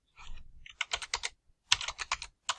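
Computer keyboard typing in two quick bursts of crisp, close key clicks with a brief pause between them.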